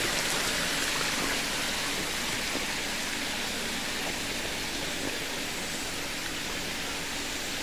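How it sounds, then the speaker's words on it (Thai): A waterfall beside a temple in Thailand roars steadily, a broad constant rush of falling water with no break. "มีน้ำตกด้วยสวยงามครับ"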